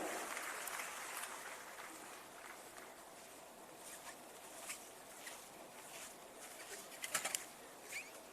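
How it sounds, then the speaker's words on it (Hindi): An audience applauds to welcome the chief minister at an agricultural road map launch event in Bihar, a steady, fairly distant wash of clapping with a few sharper claps near the end. "जोरदार तालियों से स्वागत।"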